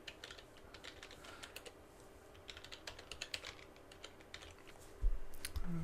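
Rapid computer keyboard typing clatters in quick uneven bursts, close and crisp, followed by a heavier thump or two at the end.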